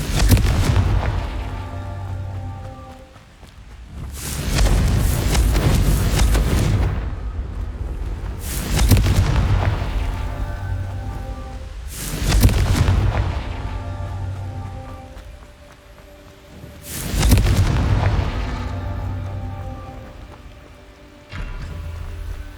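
Repeated Confringo fire-blast spells exploding in Hogwarts Legacy, five heavy booming bursts at irregular intervals, each with a crackling rumble that fades before the next.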